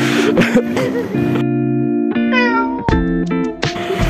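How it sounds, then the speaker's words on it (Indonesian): A cat meows several times in quick succession, close and fairly loud, the calls varying in pitch and length with some background noise between them. "Dan salah satunya ada di depan kita ini yaitu kucing."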